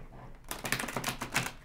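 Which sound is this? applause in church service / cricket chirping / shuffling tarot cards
shuffling tarot cards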